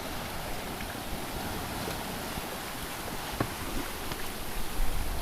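Wind and ocean waves wash steadily around a single-handed sailboat running downwind offshore in about 15 knots gusting to 20, with a constant rushing roar, buffeting wind on the microphone and occasional louder surges.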